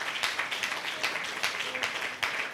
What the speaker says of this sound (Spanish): Den un fuerte aplauso a Jesucristo.